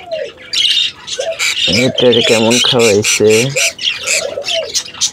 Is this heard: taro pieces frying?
no